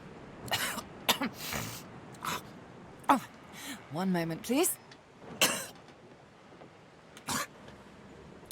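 A character from the video game Divinity Original Sin 2 retches and sneezes: several sharp coughing and gagging bursts, a strained wavering retch midway and a final sneeze, close and clear, with a brief spoken line between them.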